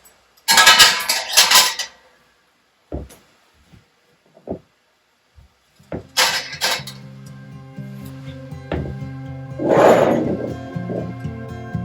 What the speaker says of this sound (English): And you're going to start loading them into your canner.